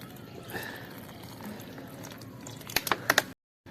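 Water poured over potted plants in a home garden gives a soft, steady splashing wash, then a few sharp clicks close by before it cuts to silence.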